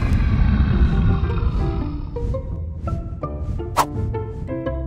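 A deep, growling roar fills the first half, fading into a series of rumbling snarls and short harsh bursts, like a large creature close by.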